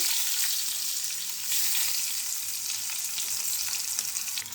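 Mustard seeds, cumin and onions fry in hot oil with a steady, close crackling sizzle and scattered pops that run the whole time, with no voices.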